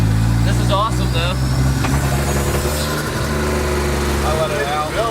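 A straight-piped BMW E36 with a stuck wastegate runs rough and uneven with a misfire, its loud, throbbing exhaust drone filling the space while people talk over it.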